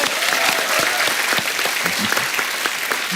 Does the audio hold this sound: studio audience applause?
yes